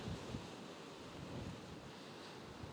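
Wind buffeting a microphone on the winter coast at Froward Point near Dartmouth, a steady low rushing roar with faint surf underneath, no voices.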